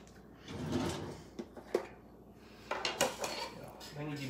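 Metal cutlery clatters and clinks as a kitchen drawer is rummaged through and a knife is pulled out, several sharp rattles close by with a softer drawer slide, no talk over it.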